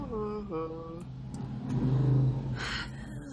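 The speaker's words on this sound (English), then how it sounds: "Motorcycle outside." A motorcycle engine revs outside, rising to a throaty drone midway and then fading, heard after a person speaks.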